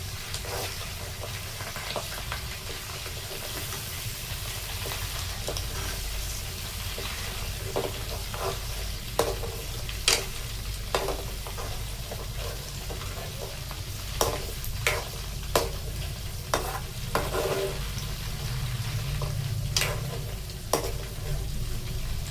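Milk cream bubbles and froths in a pot as it cooks down into ghee, a soft continuous sizzle under repeated scraping stirs from a spoon that sound out every second or so.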